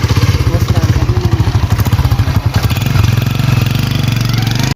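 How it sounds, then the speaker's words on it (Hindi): A motorcycle engine runs close and loud with a rapid, even thumping idle that continues steadily without pause. "तो अभी मैं बाइक स्टार्ट करता हूँ"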